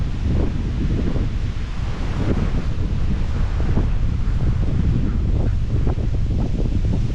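Strong wind roars and buffets loudly against the microphone outdoors in New Zealand, a continuous low rumbling gust with no voices.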